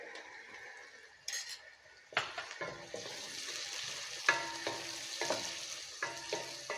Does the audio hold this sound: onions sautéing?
yes